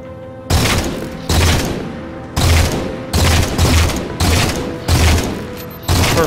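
Loud bursts of gunfire in the video game Halo 4 come as about seven separate booming volleys in an uneven rhythm, close and heavy, with no speech.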